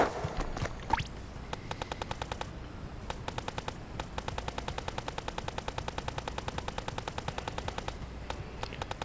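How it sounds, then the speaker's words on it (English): Rapid repeated weapon shots from the Nozzlenose in Splatoon, a burst-fire gun firing crisp clicky reports in quick bursts, with a few louder splashy blasts at the start, faint and without talk. "Pull the trigger once and it fires 3 shots."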